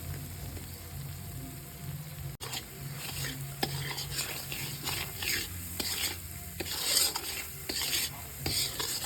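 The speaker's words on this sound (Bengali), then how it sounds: "পরিমাণ মতো হলুদ, ভালো করে মশলাটাকে কষিয়ে নেব" Spices with turmeric being stir-fried in a pan for a winter vegetable paneer bhurji: a continuous close sizzle with repeated scraping strokes of a spatula against the pan, steady and moderately loud, with no talking.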